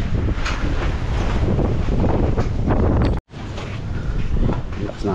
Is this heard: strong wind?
yes